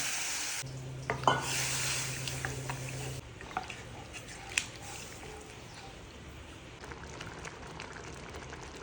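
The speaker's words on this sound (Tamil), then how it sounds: "நல்லா கொதி வந்துருச்சு." Tomato masala thickened with roasted gram flour bubbling in a pan, soft close popping and simmering with brief stirring scrapes, steady and moderate.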